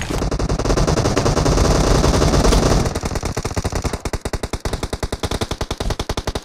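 Rapid automatic gunfire in the mobile shooter BGMI, a dense loud burst followed by a steady fast rhythm of close shots that continues to the end.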